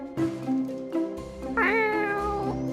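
A cartoonish cat meows from the video game The Cat Machine, a single drawn-out, rising meow with a bright tonal quality, heard clearly and alone over quiet game background.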